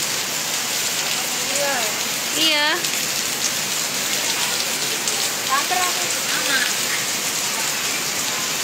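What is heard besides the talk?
rain falling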